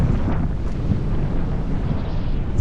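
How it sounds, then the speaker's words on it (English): A force 10 storm wind, gusting near 45 knots on a beach in Denmark with sand flying, roars and buffets the microphone in a loud, unbroken rumble with no talking. "It got so windy now towards the end."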